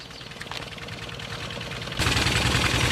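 A small e-taek farm tractor vehicle chugs steadily with a low, rhythmic engine pulse on a rough rural track, growing louder and harsher partway through.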